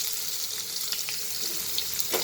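Onion and garlic sautéing in a pan for an Uttar Karnataka-style tonde kayi palle, giving a steady soft sizzle throughout with a few faint utensil scrapes near the end.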